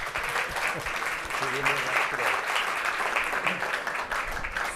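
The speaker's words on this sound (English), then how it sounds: "Give them a round of applause." An audience at a lunchtime symposium on multilateralism claps for a panel, giving a steady round of applause that runs through the whole stretch at moderate loudness.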